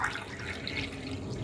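Water poured from a cup into a pan for sugar syrup, a steady close splashing and trickling with no talk.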